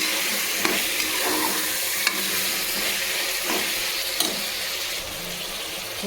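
Tomato, fenugreek leaves and mint leaves fry steadily in a pan for a vangi bath, a continuous close sizzle with a few soft stirring taps scattered through.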